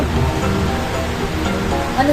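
Water runs steadily from a faucet as a continuous loud hiss and splash with a slight gurgle near the end, indoors at home.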